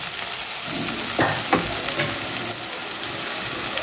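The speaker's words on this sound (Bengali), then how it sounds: "মটর কড়াইগুলো আমি এবার দিয়ে দিলাম" Green peas tumble into a hot kadai of oil, setting off a steady close sizzle with a couple of brief stirring scrapes; no voices.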